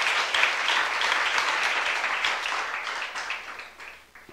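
A church congregation applauds during a youth service sermon, a steady spread of many hands clapping at moderate distance that thins out and fades toward the end.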